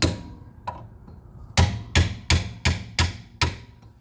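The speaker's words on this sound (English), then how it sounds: "kind of just wedge it against the caliper part right here and just tap it." A hammer taps a socket wedged against a car's brake caliper, giving a faint early knock and then six sharp metallic strikes in a fairly even rhythm, close and loud.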